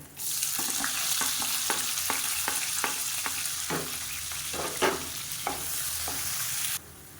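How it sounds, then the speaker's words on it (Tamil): Sliced onions fry in oil for an egg curry, a steady close sizzle broken by about a dozen rhythmic scraping stirs of a spoon in the pan before the sound cuts off abruptly, with no talking. "இப்போ வெங்காயம் இந்த அளவுக்கு நல்லா பொன்னிறமாக வறுத்துக்கோங்க"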